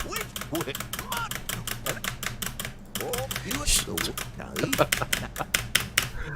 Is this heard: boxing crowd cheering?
no